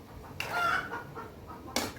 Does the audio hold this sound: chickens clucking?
yes